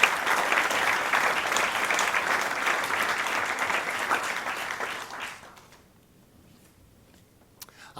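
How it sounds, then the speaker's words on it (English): Lecture audience at an LSE event giving a warm round of applause for two speakers, sustained dense clapping for about five seconds that tapers off into near silence with a stray tap near the end. "I wonder if we could give a round of applause to our two speakers"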